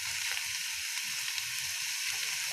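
A shrimp bharta mixture fries in a pan, giving a soft, even hiss of sizzling that holds steady for a couple of seconds with faint low bubbling underneath and no voices.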